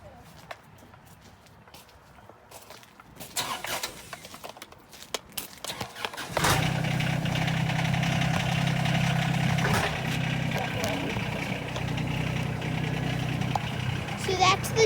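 A 1937 International truck engine cranks and catches after a few seconds of scattered knocks and movement, then settles into a loud, steady idle rumble for the remainder, heard close with no clear talking.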